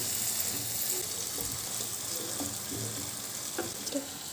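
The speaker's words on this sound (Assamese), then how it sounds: "মছলাখিনি ধুনীয়াকৈ ফ্ৰাই হৈ গ'ল।" Spices for chicken curry fry in a pan with a steady, moderate sizzle, punctuated by light scraping and clinking of a spatula stirring them.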